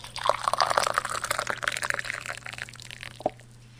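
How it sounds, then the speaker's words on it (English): Tea poured into two cups in a living room, a bright trickling, splashing stream of liquid lasting a few seconds, close and clear, ending with a final drip. "proceeded to pour the 2 cups for her stepmother and her stepsister"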